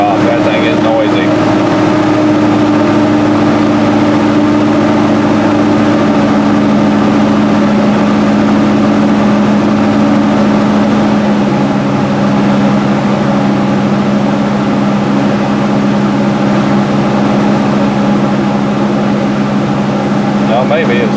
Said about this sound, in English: try and get the fan to shut off. That thing is noisy.